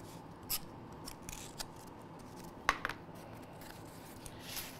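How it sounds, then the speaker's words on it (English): Scissors snip away rough edges of material while collection items are packed into a box. A few faint, separate cuts stand out from quiet room noise, with nobody talking. "You just might want to just trim off any sort of rough edges."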